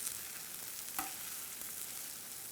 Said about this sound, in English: we want to saute our cabbage here so the onions don't get too brown or